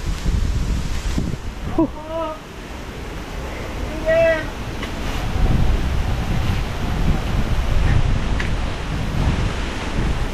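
Strong wind blowing outdoors buffets the microphone with a steady, loud low rumble throughout, while a voice briefly speaks and a short tonal cry briefly rises above it.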